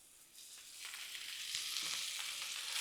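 About a pound of lean ground beef frying on a Blackstone griddle makes a faint, steady sizzle that swells a little, with a couple of soft scrapes.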